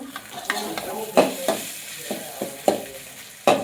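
Oil tempering for a broad bean and eggplant curry, with cumin, mustard seeds and onions, sizzles steadily in a pan while a spoon stirs and scrapes in irregular strokes, with several sharper clinks against the pan, close by and with no talking.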